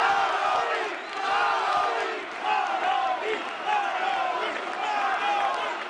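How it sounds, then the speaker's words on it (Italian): A large crowd at a Lega political rally for Umberto Bossi cheers and chants in loud rhythmic waves, many voices rising and falling together close by. "La folla lo acclama."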